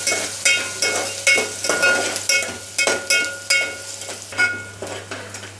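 Chopped onion frying in hot oil in a pan for a Malvani-style fish curry, a steady close sizzle broken by regular scraping stirs roughly every half second, with no voices.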